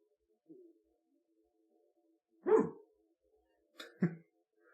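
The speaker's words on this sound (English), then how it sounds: "Sometimes if she hears a quiet bark from far away, she will also bark quietly." A dog gives a few soft, quiet barks with gaps of silence between them: one faint bark, then a louder one, then a final pair, close by and with no talk.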